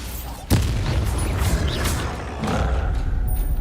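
A Bombarda blasting spell goes off in Hogwarts Legacy with a sharp, loud boom, then a rumbling, crackling tail and a second swell of debris-like noise, heard up close without talk.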